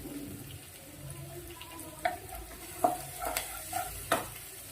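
Green chillies fry in hot oil in a pan for semiya (vermicelli) upma while being stirred. A steady low sizzle runs throughout, broken by several sharp, close scrapes and clinks from the stirring utensil.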